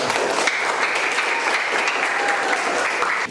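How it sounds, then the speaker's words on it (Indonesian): Students in a classroom applaud their groups with a steady burst of clapping from many hands, loud and close, lasting a few seconds before cutting off. "untuk semua kelompok hari ini kita berikan aplaus"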